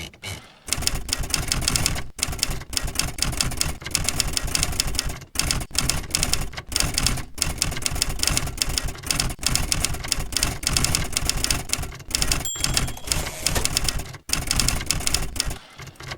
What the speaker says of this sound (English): I also really like this Winston typewriter because it's a typewriter.